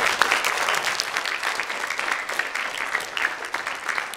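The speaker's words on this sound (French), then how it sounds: "Nicolas, on peut l'applaudir là-bas." An audience applauds at a French awards ceremony, a steady dense round of clapping throughout at moderate volume, with no speech over it.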